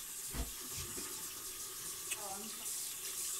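Tap water runs steadily into a bathroom sink during a morning face-washing routine, a soft continuous splash with a few brief knocks, and one person says a single short word over it.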